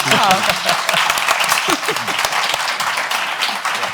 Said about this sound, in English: can we have a round of applause for GDS?